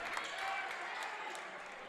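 A basketball crowd at a boys' high school game erupts after a blocked shot, producing a brief wash of applause and cheering that runs on under a commentator's voice.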